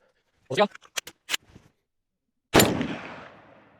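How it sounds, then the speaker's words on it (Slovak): A single sharp rifle shot rings out close by while a scope is sighted in at a 25-metre target, its loud crack trailing into a long echoing decay, following a few brief clicks and handling noises. "A vystrelíme si prvú ranu a pozrieme sa, že kde to ide."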